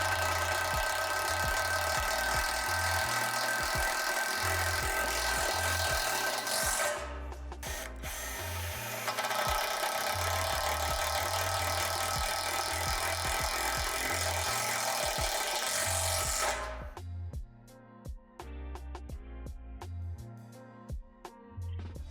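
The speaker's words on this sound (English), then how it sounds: "Now we're going to secure the poles together by inserting the self-tapping screws into each of these holes." A power tool drives self-tapping screws through the metal poles of a Lifetime 52-inch portable basketball system. A loud, steady whirring runs for about seventeen seconds, then stops and leaves a series of sharp taps and clicks.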